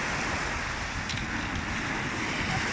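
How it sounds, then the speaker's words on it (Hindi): Sea waves wash steadily against the shore, a broad continuous surf hiss with wind buffeting the microphone, fairly faint and without talk. "आवाज़ बहुत आ रही है, देखो आवाज़ सुनो, लहरों की आवाज़।"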